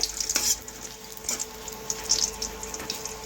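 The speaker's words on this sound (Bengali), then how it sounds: "রসুনগুলো লাল লাল করে ভেজে নেব" Garlic cloves frying in a pan for a Malabar spinach dish, a steady close sizzle with a few soft scrapes of stirring, no talk.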